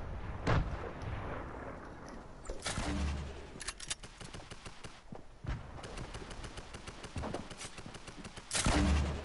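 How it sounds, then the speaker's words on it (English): Heavy explosive weapon fire in a video game shooter match, likely a grenade launcher, with several loud booming blasts spread across the stretch amid crackling gunfire and battle noise. "Somebody got a grenade launcher."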